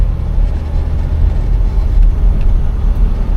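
A 1973 Buick Electra 225 engine rumbles steadily under throttle, a loud low drone with road noise that holds constant rather than clearly revving up.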